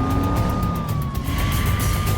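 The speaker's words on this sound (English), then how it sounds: "the officer turns on the siren and accelerates through traffic" A police car siren sounds during a pursuit through traffic, heard as a steady wailing tone over loud engine and road rumble, continuous and close for the whole stretch.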